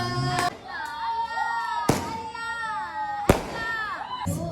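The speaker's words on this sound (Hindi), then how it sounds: "गाइस अभी जो है ना मैं पटाखे फोड़ने लगा हूँ।" Sharp firecracker bangs burst at intervals during Chaand Raat celebrations in Indonesia, three or four loud cracks, while children chatter and call out nearby.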